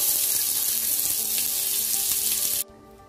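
Two onions hit hot oil and spices in a pressure cooker for cooker mandi, making a loud, steady, close sizzle that cuts off abruptly near the end.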